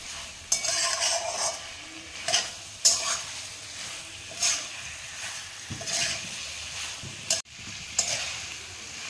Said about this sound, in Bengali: আমি এবার ভেজে রাখা পেঁপে আর আলুগুলো দিয়ে দিচ্ছি, দিয়ে আমি মশলার সাথে মিশিয়ে দেব।